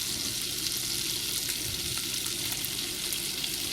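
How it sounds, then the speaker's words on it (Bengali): Three bay leaves dropped into hot oil and melted ghee for a kabab pulao, a continuous close sizzle and hiss held at an even level throughout. "গলে যাচ্ছে, দিয়ে দিলাম 3টা তেজপাতা"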